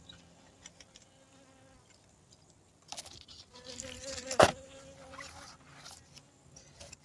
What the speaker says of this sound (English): Look at the busy bee.